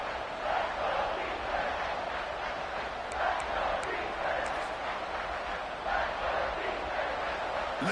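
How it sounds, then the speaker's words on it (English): Stadium crowd roar from a video game football match as the defense tries for a stop near the goal line, a steady swelling cheer with periodic surges, underneath commentary. "the crowd really making some noise now, trying to help out this defense to get this stop near the goal line"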